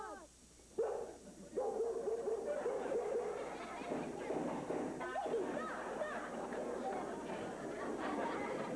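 Dogs barking and yipping during a prison break in the sitcom Small Wonder, with short barks under lively overlapping speech and commotion.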